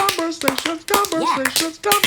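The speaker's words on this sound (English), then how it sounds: "Y'all off beat. Stop clapping." Hands clap along to a beat in sharp, fairly regular strikes, mixed with a singing voice.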